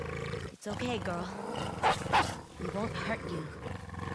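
A wolf in the video game Ghost of Yotei growls low and rough beneath a person talking, with a couple of louder snarling bursts mid-way.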